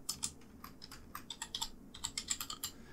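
Keys clatter on a computer keyboard in a quick, uneven burst of close, crisp taps with a brief pause midway, heard alone.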